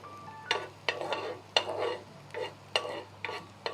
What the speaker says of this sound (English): And now let's give it a nice swirl and saute it till it becomes translucent.